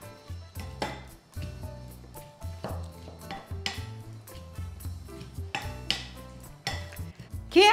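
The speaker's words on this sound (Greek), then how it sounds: "Ανακατεύουμε καλά." A spoon stirring salt and vinegar marinade in a bowl, giving repeated light clinks and scrapes against the bowl in an irregular rhythm, close and fairly quiet with no talking.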